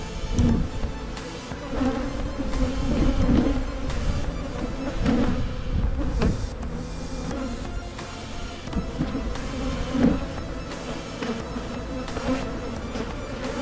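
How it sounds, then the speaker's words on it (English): Dense buzzing of a honeybee swarm, continuous and close, with occasional louder swells as individual insects pass near. "ton of bees in the box"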